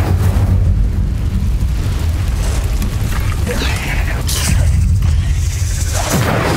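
The Incendio fire spell goes off in Hogwarts Legacy inside a cave, making a loud burst of roaring fire and booming whooshes that repeat and swell, alongside a game character's voice.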